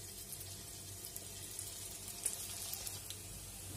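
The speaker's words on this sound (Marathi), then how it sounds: "तेल जास्त कडक गरम करायचे नाही, थोड्याशा थंड तेलामध्ये तळायचे आहे।" Soya kababs fry in moderately hot oil, giving a faint, steady sizzling hiss with small crackles scattered throughout and no talking.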